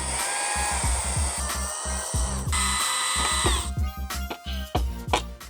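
A power drill with an extension removes the fairing screws from a Harley-Davidson Low Rider ST motorcycle, whining in several sustained bursts, then shorter on-off pulses and ratcheting clicks, close and loud with no speech.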